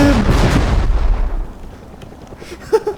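A rocket explosion in a war-themed video game set in Syria booms loud and close at the start, its deep rumble decaying over about a second and a half, followed by faint scattered pops and small impacts further off.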